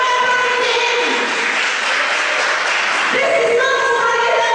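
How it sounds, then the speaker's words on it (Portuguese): Applause from a church congregation during a Portuguese-language service, a steady dense wash of clapping filling the whole stretch, loud and close, with some voices and sustained tones mixed underneath. "Aplauda o Senhor."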